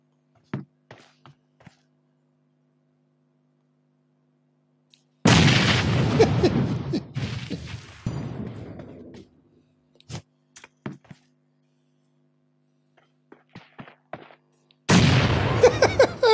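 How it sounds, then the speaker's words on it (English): Grenades go off in PUBG Mobile: two loud, close blasts several seconds apart, each followed by a rumbling tail, with scattered small clicks and thumps in the quiet stretches between. "Grenades are awesome."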